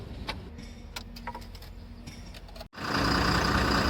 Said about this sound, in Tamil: வண்டி ஸ்டார்ட் பண்ணி விட்டுருக்கேன்